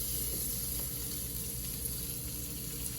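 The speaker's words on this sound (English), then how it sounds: "we just put our onions right in" Onions sizzling in a cast iron pan: a steady, even hiss of frying with faint crackles throughout, fairly close and alone, with no talking.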